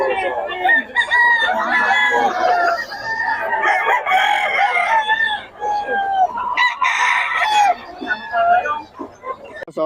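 Green-legged and sweater gamefowl roosters crowing repeatedly and clucking close by, loud overlapping calls with someone talking intermittently among them.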